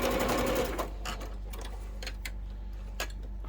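A sewing machine stitches quilt block triangles for a King's Crown block fed through on a leader cloth, with a loud motor burst at first and then a close, rapid mechanical ticking.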